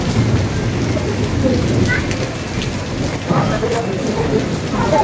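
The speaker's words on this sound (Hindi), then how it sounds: "इधर बहुत ज़ोरों की बारिश" Heavy rain pouring down in Islamabad, a dense, steady roar of rainfall close by that continues without a break.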